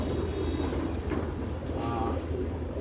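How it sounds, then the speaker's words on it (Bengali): A long-distance racing pigeon coos softly amid a constant noisy background murmur, with the low throaty call rising briefly toward the end. "এই কারণে ট্রয় মাদিটা হলো জনি বয়ের নাতনি আর এটা যে দেখালাম আপনাদের এই কবুতরটা"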